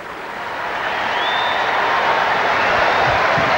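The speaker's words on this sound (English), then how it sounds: "A round of applause" Stadium crowd at Shea Stadium applauding during a ceremonial first pitch honoring the New York Mets All Amazin' Team in 2002, a broad steady roar of clapping and cheering that swells slightly and holds, heard from a distance.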